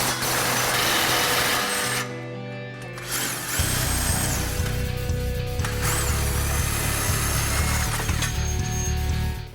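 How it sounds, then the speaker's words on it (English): Power tool loosening the 18 mm strut-to-spindle bolts on a 2005-2014 Ford Mustang during a coilover install, a loud steady whir with a brief pause and pitch shift, no talking. "We're going to go now to these 18 mil bolts that secure the strut to the spindle and remove those."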